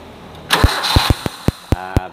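A car engine cranks and catches during a spark plug cable test, followed by a series of sharp, regular ignition pops or snaps, close and loud.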